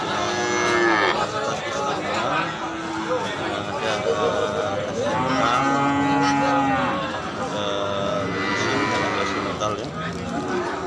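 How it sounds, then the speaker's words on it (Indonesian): Simmental and Limousin cattle, including five-month-old calves, moo repeatedly and loudly close by at a farm, long drawn-out calls overlapping with steady background noise. "Sapi"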